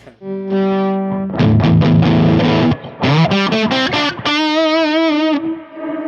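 An electric guitar played through a Mesa Boogie Express Plus 525 amp on the lead channel's blues setting, with moderate distortion at about 2 o'clock: a sustained note, then choppy chords and a bending, vibrato-laden lead phrase, loud and close.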